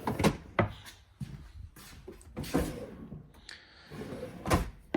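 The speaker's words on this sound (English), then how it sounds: "I just like the way these drawers close. They close so nice. They glide really easily." Fifth-wheel camper drawers slide shut one after another, a series of soft rolling glides ending in light thuds, with quiet pauses between them.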